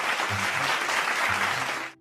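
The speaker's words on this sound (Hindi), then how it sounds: "ये देखकर वहां खड़े सब लोग तालियां बजाने लगते हैं।" A crowd claps at a monkey circus show with a trained monkey and its handler, a close, full burst of applause with a low hum underneath that carries on evenly before cutting off abruptly at the end.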